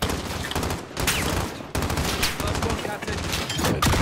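Steady automatic gunfire rattles through a Call of Duty: Modern Warfare battle, a dense, loud fusillade of overlapping shots that barely pauses, with a voice breaking through now and then.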